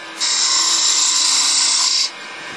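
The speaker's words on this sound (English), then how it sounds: "this is where we're going to slow the lathe down and come back, and we're going to come in with our detailer" A detailer tool cuts wood on a slowing lathe for about two seconds, a bright, steady, close scraping whine that starts and stops abruptly.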